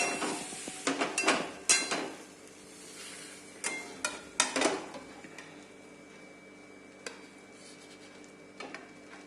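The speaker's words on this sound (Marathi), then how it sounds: "आपलं हे भेंडी झालेले आपण हे ताटामध्ये काढूया" Cooked okra being scraped and spooned from a pan onto a plate, with a cluster of sharp metallic clinks and scrapes early on, then sparse light taps trailing off into quiet.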